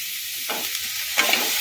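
Vegetables sprinkled with a little salt sizzle in a frying pan while being stirred, a steady hiss broken by two quick scraping strokes of the spatula, close and without speech.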